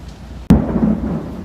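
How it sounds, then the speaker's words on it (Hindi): Heavy rain with thunder, a sudden close thunderclap cracking out and rolling into a loud rumble over a steady wash of rain. "तो देखिए कितनी तेज़ बारिश है"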